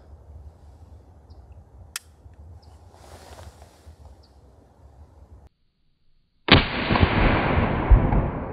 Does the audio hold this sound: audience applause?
no